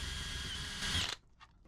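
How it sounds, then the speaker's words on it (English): A power drill bores out a pop rivet on a pop-up camper's screen door strap cap, whining steadily and loudly, then stopping abruptly as the bit breaks through, with a faint mechanical sound after. "So with the drill bit slightly larger than the inside of the rivet head, drill the rivet out."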